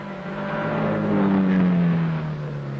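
A 3.3-litre Ferrari prototype race car at Le Mans sweeps past with a rising then falling engine tone, its steady drone swelling as it nears and fading as it moves off.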